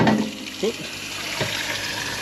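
Water poured into calf feeding bottles, a continuous splashing trickle with a couple of brief gurgles, heard fairly close.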